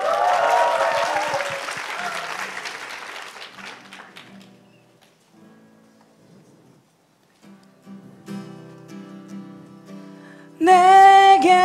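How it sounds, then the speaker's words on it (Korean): Applause from a crowd at a youth town hall meeting with a presidential candidate fills the first few seconds, loud and dense, then fades into near silence before some quieter tones and a sudden bright, loud musical sound at the end. "박수."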